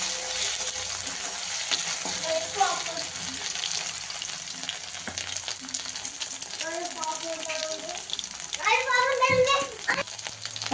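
Onions sizzle steadily in a pan for a home-style kheema, with stirring scrapes running through it and children's voices and someone talking faintly in the background.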